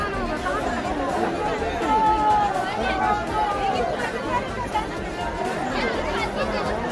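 Dense chatter of a large crowd of pilgrims at Ekveera temple, many overlapping voices forming a steady, close hubbub with no single speaker standing out.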